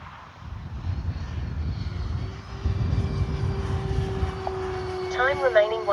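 A Dynam Me 262 V3 radio-controlled model jet on its maiden flight whooshes overhead with a steady rushing engine drone that swells and fades, while a voice talks over it.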